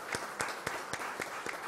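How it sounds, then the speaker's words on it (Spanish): Church congregation at a Christmas novena Mass clapping for the choir, a few sparse, distinct claps spaced in a loose rhythm, fairly quiet and with a roomy sound. "Vamos a darles un gran aplauso por el talento que tienen para cantarle al niño Dios."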